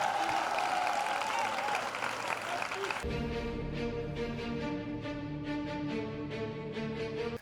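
An evangelical church congregation at a Sunday service breaks into sustained applause and cheering, dense and steady at first, then continuing under music with a rhythmic clapping pattern.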